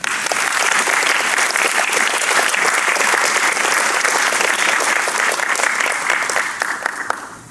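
An audience gives steady, loud applause to welcome Dr. Dominick Hernández at an event against antisemitism, the clapping dense and continuous before fading out at the end.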